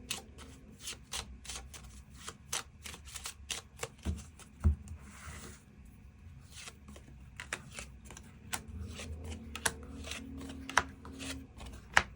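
Tarot cards being shuffled and drawn during a monthly fortune reading, a steady run of soft, quick papery flicks and snaps, close and fairly quiet, with no talking.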